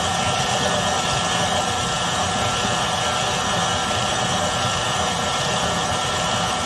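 An electric mixer beating cake batter with milk and vanilla runs as a loud, constant whirring drone, close and unbroken, with no voices over it.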